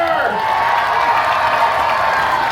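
A crowd at the OC Fair in Costa Mesa, Orange County, cheers and applauds the grand pig racing champion, a steady, loud wash of clapping and whoops that holds for the whole moment.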